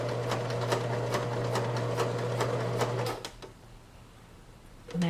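A household sewing machine stitching bound buttonholes with tension set high, running at a steady, rapid mechanical chatter with a low hum for about three seconds, then stopping, followed by quiet and a small clunk at the end.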